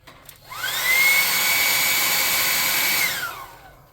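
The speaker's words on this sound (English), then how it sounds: "We're going to use a blow dryer to hit his face real quick." Hair blow dryer used to dry paint on a miniature figure, switching on with a rising whine, holding a steady loud whirring roar for a few seconds, then winding down.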